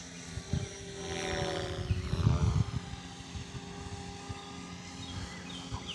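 A Blade Fusion 360 RC helicopter on a 3S battery flies nearby, its rotor whirring in a steady buzz that swells and fades as it maneuvers, with faint birdsong in the background.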